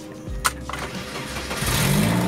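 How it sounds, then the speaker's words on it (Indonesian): A BMW E30 car engine starts with a short cranking burst, then catches and settles into a steady, fairly loud idle close by. "Jadi kalau misalkan gue menyalakan mobil ya, biasanya tuh E30 tuh susah."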